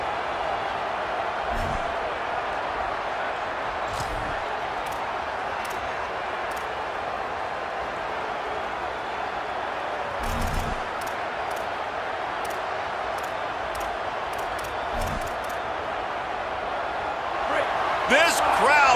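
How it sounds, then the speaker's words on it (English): A college football stadium crowd roars for a fourth-down stop in a football video game, a loud continuous wall of cheering with occasional thuds, under commentary. "This crowd busting the decibel meter and trying to will a 4th down stop"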